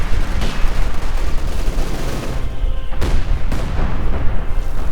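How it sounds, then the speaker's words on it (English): Howitzer and heavy mortar artillery fire in a Company of Heroes 2 match: loud booming blasts and rolling gunfire rumble, with sharp heavy reports around the third and fourth second over continuous battle noise. "If the howitzers begin firing there"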